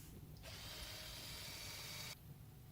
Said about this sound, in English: So just bolting it all together.